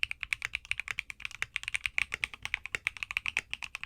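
A Neo65 budget aluminum mechanical keyboard with polycarbonate plate and foam-fitted PCB is typed on quickly, a dense run of crisp, bright, close clacks in an even rhythm, with no voice.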